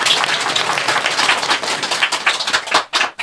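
Audience clapping at a gathering, a dense, steady burst of many hands applauding together, fairly loud and close, thinning briefly near the end before resuming.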